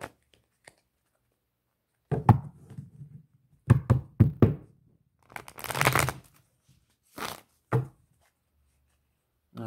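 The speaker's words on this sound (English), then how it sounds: "Let me shuffle." Tarot cards shuffled by hand come in several quick riffling bursts and soft taps against a table, close and clear, with quiet gaps between the bursts and no talk.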